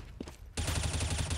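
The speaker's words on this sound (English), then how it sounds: "that's some very nice spray control to take down Polly" Gunfire sprays in a first-person shooter match: a faint shot or two, then a sudden sustained burst of rapid automatic fire, loud and dense to the end.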